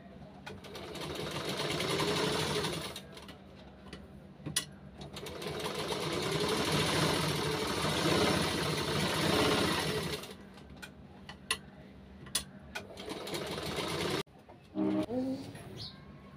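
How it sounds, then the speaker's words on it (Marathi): A sewing machine stitches the lining of a princess-cut blouse in long continuous runs broken by short pauses, with pigeons cooing faintly in the background. "तर आता आपण हे शिवून घेऊया सगळं अस्तर."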